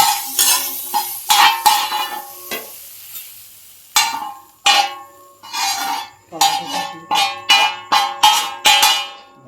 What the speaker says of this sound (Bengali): এতিয়া আমাৰ প্ৰায় পনীৰ আৰু পিঁয়াজ কেপচিকামখিনি ফ্ৰাই হৈ গৈছে